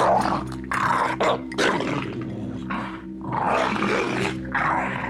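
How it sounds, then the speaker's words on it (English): A dog in a state of extreme rage growling and roaring in long, rough, close bursts separated by short pauses. "I am in front of a dog that is at the highest level of rage."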